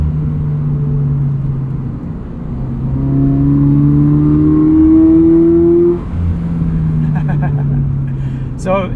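A modified automatic Toyota GR86 engine with its fake engine sound disabled hums from inside the cabin, rising steadily in pitch as it accelerates then dropping at a shift, with people talking over it.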